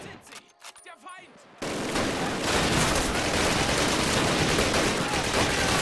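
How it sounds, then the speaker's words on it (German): A gun emplacement in a bunker in the Call of Duty game opens up after a few quieter thumps, becoming a dense, continuous roar of rapid fire that stays loud and close throughout. "Da im Bunker ist ein Geschütz."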